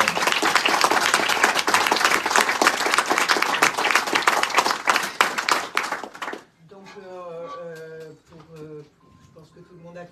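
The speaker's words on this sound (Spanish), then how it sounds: "vamos a dar un fuerte aplauso a la luchadora" An audience gives a loud, dense round of applause at a farewell tribute. It lasts about six seconds and then stops abruptly, and a voice follows.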